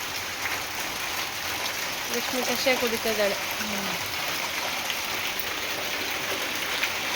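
Morning rain falls as a constant soft hiss with a trickling wash, while someone speaks briefly partway through, her voice clear over the steady patter.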